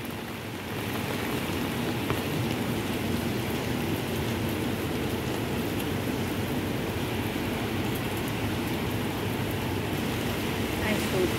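Heavy rain falling steadily on a Hong Kong street during a walk, a dense, even hiss with a fairly loud wash of downpour that continues unbroken throughout.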